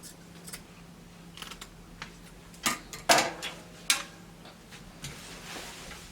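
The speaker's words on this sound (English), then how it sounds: "So I will go ahead now and cut it." Quiet crisp snips of scissors cutting through folded fabric for a flounce dress, several sharp clicks scattered irregularly, a few louder cuts near the middle, close and unaccompanied by talk.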